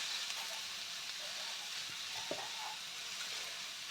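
Grated carrots frying in a pan for gajor torkari while turmeric and salt are stirred in: a steady, close sizzle with soft scraping and stirring strokes.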